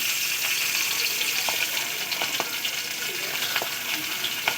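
Fish heads frying in well-heated oil, a loud continuous sizzle and crackle with small pops, steady throughout the whole clip.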